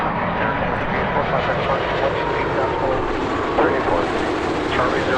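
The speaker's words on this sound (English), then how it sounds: "let's watch a Transat 330 from Manchester" An Air Transat Airbus A330 airliner at Toronto Pearson Airport gives off a steady, broad engine roar that holds at a constant level throughout, with no clear rise or fade.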